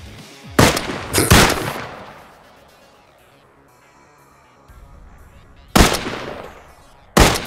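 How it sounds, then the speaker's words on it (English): Gunfire in the military shooter game Arma 3: four loud, sharp cracks, two close together near the start and two more near the end, with quieter rumbling and crackling filling the gap between them. "I'm shooting a guy and he's just flinching, he's not dying."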